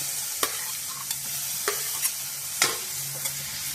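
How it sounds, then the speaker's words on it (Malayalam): Finely chopped onion and tomato sauté in a pan, with a soft, continuous sizzle broken by several sharp spoon scrapes and stirring knocks at irregular intervals, and no voices. "ഇതെല്ലാം നന്നായിട്ടൊന്ന് വഴറ്റിയെടുക്കാം."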